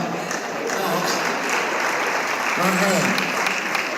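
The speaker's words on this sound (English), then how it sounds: "if you want to clap, clap." Audience clapping fills a lecture hall during a university talk on entertainment law, a steady broadband wash of applause with a short spoken phrase rising over it near the end.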